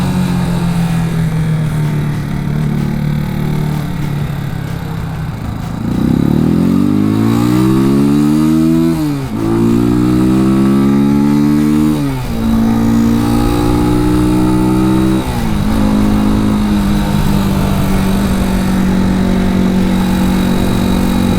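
A Janus Phoenix 250cc motorcycle revs up high while being ridden, its loud engine note climbing and falling through several sweeping rises and shifts, then settling into a steady drone.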